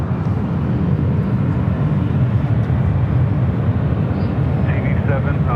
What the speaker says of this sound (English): This flight heading to Seattle, Alaska Airlines flight 1219 is